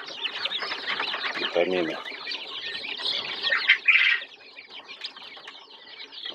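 Turkey poults feeding on grass give a continuous chorus of high, close peeping and chirping, with a short burst of louder calls midway and a voice briefly speaking over them.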